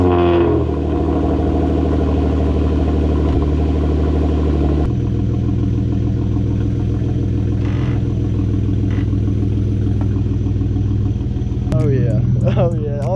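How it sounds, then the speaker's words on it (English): The exhaust of a lowered Genesis Coupe fitted with a new rear aero diffuser rumbles steadily at close range, a constant deep engine drone under people talking over it. "the exhaust like echoes a little bit differently with that thing around it"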